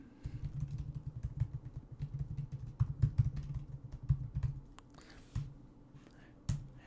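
Someone types a column name on a computer keyboard in quick irregular bursts of soft clicking keystrokes, close and fairly quiet, then a pause and a couple of final taps.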